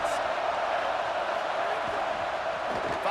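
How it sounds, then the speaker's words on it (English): Stadium crowd roaring in the EA Sports College Football 27 video game, a steady, loud wash of cheering that fills the air without pause for a few seconds. "Listen to this crowd just shaking the girders of this place"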